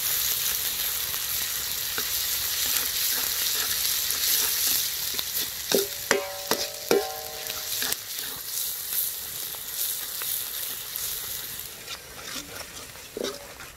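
Onions sauté in a pan for fish pollichathu, a continuous close sizzle with intermittent stirring clinks and scrapes.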